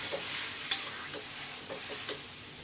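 Boiled mung dal goes into a simmering katla fish head masala and is stirred, with soft sizzling and a few light utensil scrapes against the pot, quiet and close.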